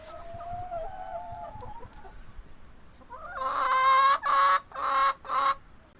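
Laying hens clucking nearby on an organic poultry farm, soft calls at first, then a loud run of drawn-out squawking clucks in three or four bursts toward the end.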